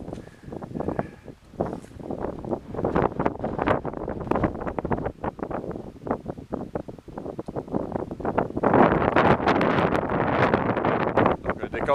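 Strong wind on the Tablelands in Newfoundland, rough gusts buffeting the microphone in bursts that grow louder toward the end, with someone talking over it.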